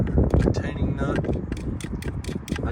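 A ratchet tightens a retaining nut in the engine bay of a Ford Explorer EcoBoost, giving close, fast clicking bursts over steady mechanical clatter.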